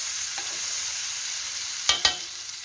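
Bacon and holy basil stir-fry in a pan, a steady soft sizzle with two sharp clanks of a spatula scraping the pan near the end.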